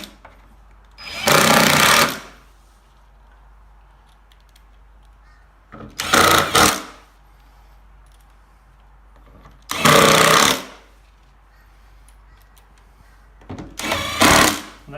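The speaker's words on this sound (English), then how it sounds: "Put your loader there, put your screw through, and we can nip that up again." A power driver nips screws tight while trolling holders are fitted to a Fishski box, giving four loud, close whirring bursts of about a second each, separated by quiet pauses.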